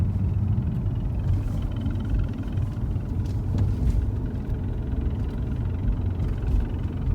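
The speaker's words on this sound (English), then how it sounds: "You will be looking for a rumbling sound like this." Hyundai Genesis G80 with a faulty propeller shaft, a steady low rumble heard from inside while driving, continuous and droning with a faint underlying vibration and no talk.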